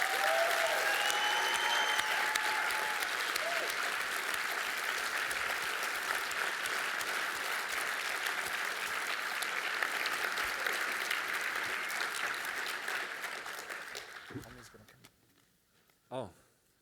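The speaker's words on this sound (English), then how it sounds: "let's give an awesome big round of applause for Cliff Curtis." Sustained applause from a symposium audience for a guest, even and full for about fourteen seconds before fading out, followed by a brief quiet voice.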